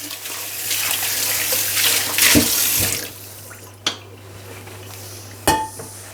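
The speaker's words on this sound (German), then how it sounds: "Einmal die Pfanne auswaschen." A pan being rinsed under a running kitchen tap, water splashing steadily for about three seconds before easing, with two sharp metallic clanks of cookware against the sink near the end.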